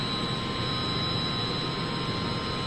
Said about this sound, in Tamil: இன்னைக்கு ஆயில் பம்ப் இப்போ ரன் ஆகி கொண்டிருக்குது.